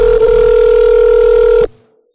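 A telephone ring tone sounds loud and close as a single sustained electronic tone lasting over a second, then cuts off abruptly before the call is answered.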